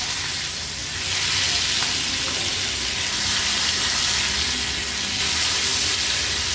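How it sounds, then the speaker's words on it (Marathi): Dhomi, silver pomfret, frying in a little oil in a pan over a high flame, a loud continuous hiss and crackle that swells slightly as it goes on, with no voices. "अगदी दोन मिनटातच कमी तेलावर किती व्यवस्थित अशी ही ढोमी फ्राय झाली आहे"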